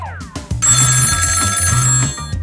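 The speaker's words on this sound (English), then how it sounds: "Oh no, I forgot about my alarm." A phone alarm rings loudly in a school classroom, a steady electronic ringing tone with bright repeating pulses that starts after a brief rustle and carries on for about two seconds.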